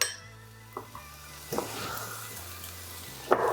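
Ground cumin and coriander sizzle in a pan for a vegan chilli, a steady close hiss broken by a few soft clinks and scrapes of a utensil against the pan.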